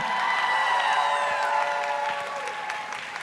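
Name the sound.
crowd applause for Delia at rally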